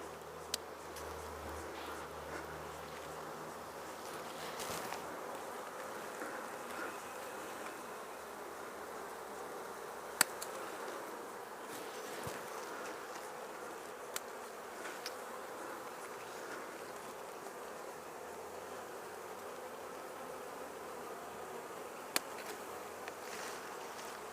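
A swarm of bees hums steadily for the whole stretch while someone trims around them to fit a basket over the cluster. The buzzing is moderately loud and close, with occasional sharper clicks and no talk.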